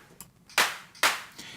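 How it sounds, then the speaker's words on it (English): Two prominent electronic claps built in Ableton Live's Operator, with drive and bandpass filtering and a reverb-like tail, strike about half a second apart, with fainter hits before and after. "And that's a clap."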